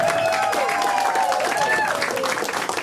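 A comedy club crowd at the Infinity Room applauds a comedian, with sustained clapping topped by rising and falling whoops and cheers that carry over the hands.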